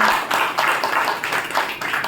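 A gathering at a Brahma Kumaris spiritual session breaks into applause, a steady patter of many hands clapping nearby.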